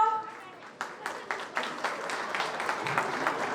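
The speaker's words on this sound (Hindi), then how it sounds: "तो प्लीज तालियों से स्वागत सभी छोटे बच्चों का" Audience clapping to welcome small children performing at a Maharaja Agrasen Jayanti celebration, beginning as scattered claps after a voice and building into a fuller round of applause, moderately loud.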